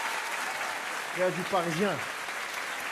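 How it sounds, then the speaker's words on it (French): An audience at a stand-up comedy show applauds in a continuous wash of clapping, while a voice briefly speaks over it partway through. "Applaudissez les Parisiens ce soir."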